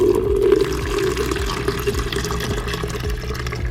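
Water holding betta fry being poured from a container into a tank, a loud continuous splashing gush with bubbling that stays steady throughout.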